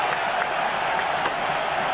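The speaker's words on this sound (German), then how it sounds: "Unbeschreiblicher Jubel hier im Stadion." Stadium crowd at a Red Star Belgrade versus Bayern Munich match roaring after a free-kick goal, a dense, loud, unbroken wall of cheering and applause throughout.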